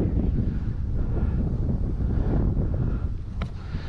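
Strong wind roars across an RC glider flying field where an ASW 28 sailplane is being maidened, a constant close buffeting rumble on the microphone with no voices.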